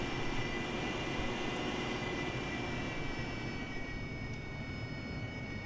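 An AV-8B Harrier jet taxis in the DCS flight simulator, its engine a steady, loud roar with a high whine that holds constant throughout.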